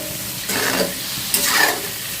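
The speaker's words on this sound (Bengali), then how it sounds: "এখন হচ্ছে চিংড়ি মাছগুলো ভেজে নিচ্ছি" Prawns frying in hot oil: a steady, close sizzle that swells in two bright hissing surges, with no talking.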